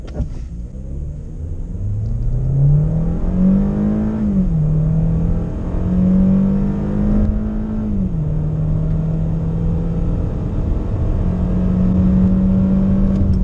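A Kia Sportage engine revs and pulls hard accelerating from 0 to 100 km/h, its pitch rising through several gear changes with a constant loud rumble and no voices.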